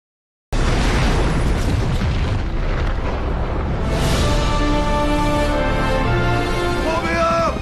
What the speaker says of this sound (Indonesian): alat penangkap sinyal telah mati sehingga bom di gedung pun meledak